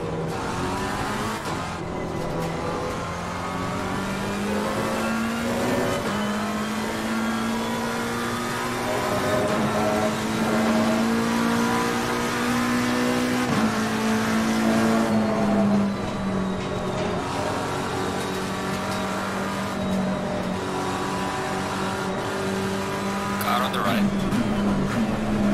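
Race cars lapping Silverstone in Assetto Corsa Competizione, with a steady loud engine drone that rises and falls through gear changes and a few revs and tire noises, under someone talking over most of the stretch.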